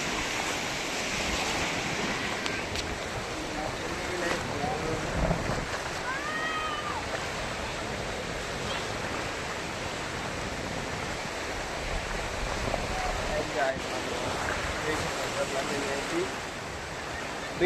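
Ocean surf at Malpe Beach rolls in a steady, broad wash mixed with wind buffeting the mic, with faint voices of beachgoers in the background.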